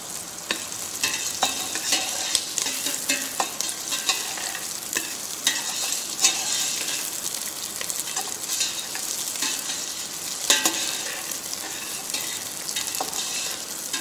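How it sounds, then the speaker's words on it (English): Carrots roasting in a pan with mutton fat for a brown stock sizzle steadily, with frequent scraping clicks and knocks as they are stirred, close and continuous with no talking. "just add in your carrots. Now we have to roast this nicely till golden brown."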